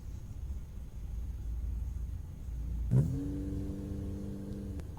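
Car engine in the Granny horror video game, a low rumble that suddenly starts with a loud thump midway and settles into a steady, rising mid-pitched revving tone until the end.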